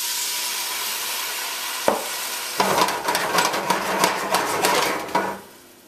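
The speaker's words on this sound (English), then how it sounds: "For a little bit of acid, I like to go in, my heat is still on low, and to deglaze and to bring up some of that flavor" Orange juice hits a hot pan of lamb chops on low heat, a quiet hiss that bursts into loud sizzling bubbling with a few stirring scrapes, fading out after a few seconds.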